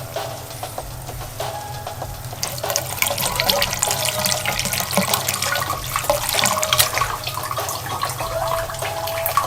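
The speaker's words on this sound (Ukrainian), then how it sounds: "Прямо сюди його вливаю і трішки води зверху" Water splashes and gurgles steadily into a bucket for a DIY hydroponic setup, a continuous rushing pour that grows a bit louder partway through.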